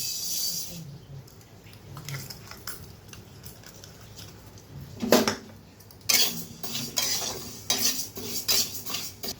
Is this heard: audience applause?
no